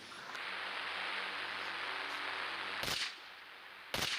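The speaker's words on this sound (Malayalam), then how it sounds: "നമുക്ക് ചുമ്മാ ഇവിടെ വെടിവെച്ച് നോക്കാം." Two sharp gunshots from the video game Indian Bike Driving 3D crack out late over a constant hissing game-engine background.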